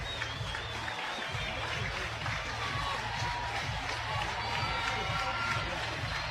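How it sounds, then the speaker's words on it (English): Softball fans in a stadium cheer and make noise, a distant, steady crowd roar with scattered claps under a radio broadcaster's voice. "Sooner fans start to cheer"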